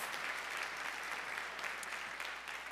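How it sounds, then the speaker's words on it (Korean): A congregation at a national youth Holy Spirit conference in 2020 applauds together after a sermon, a steady, even wash of clapping from many hands that holds for a few seconds without any voices over it. "자 박수."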